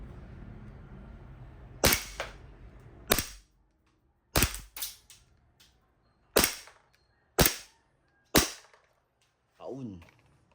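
A Double Bell 303A Pit Viper toy gun fires about seven sharp, loud snapping shots at uneven intervals. Quiet handling noise follows, and a short voice sounds near the end.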